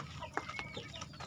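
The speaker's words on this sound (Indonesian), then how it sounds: "Ayam diberikan makan" Chickens at feeding time on a poultry farm give soft scattered clucks and short calls over a low background hum, fairly faint and close, with no voices.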